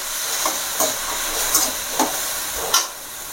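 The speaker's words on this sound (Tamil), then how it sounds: "இப்போ வதக்கணும்." Potatoes and tomatoes sauté in a pan for a potato-tomato thokku, a steady loud hiss of steam and frying with several sharp bursts of sizzle at regular intervals, close up and without speech.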